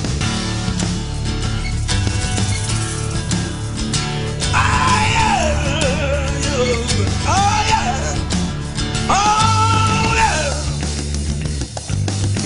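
A crowd of voices groans, wails and cries out in an audio-drama scene of Israelites in bondage, long anguished calls rising over a steady musical backing.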